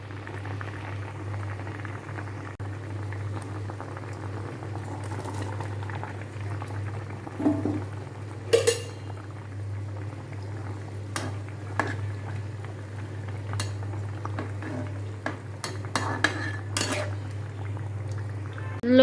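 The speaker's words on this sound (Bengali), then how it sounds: "লতিগুলো সিদ্ধ হয়ে আসছে" Taro stolons boiling in a pot give a steady low bubbling, with a few sharp metallic clinks of utensils against the pot.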